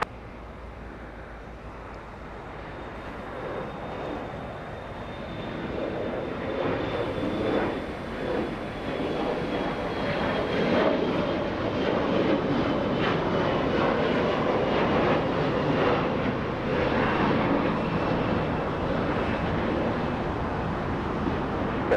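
A jet airliner taking off from runway 25 right at Los Angeles International Airport, its engine roar building to a loud, broad, sustained rumble.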